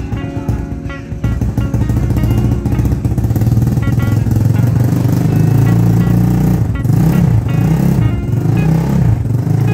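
A Honda Click motorcycle bored up to 160cc, fitted with a JVT exhaust and 14T gearing, runs steadily up close, its loud exhaust drone holding throughout with slight rises in revs.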